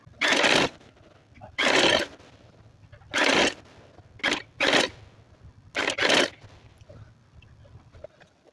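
A sewing machine stitches a folded trouser hem in several short bursts, each roughly half a second long and separated by quiet pauses, loud and close.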